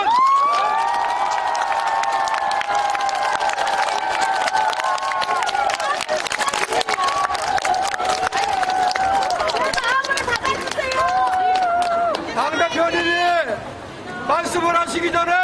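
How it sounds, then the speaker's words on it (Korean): A large political-rally crowd for Lee Jae-myung, Democratic Party leader, cheers and applauds loudly and continuously, with shouts and whistles rising above the clapping and voices calling out near the end. "여러분들의 마음을 담아서 큰 박수를 주시면"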